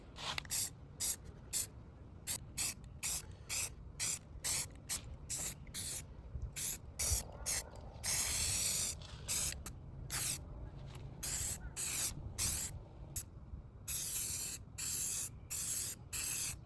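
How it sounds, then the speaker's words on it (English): Rapid bursts of aerosol primer sprayed under a BMW E36 car, a string of short hissing puffs with a longer continuous spray in the middle, close and fairly loud, with no talking. "We laid down a quick coat of primer."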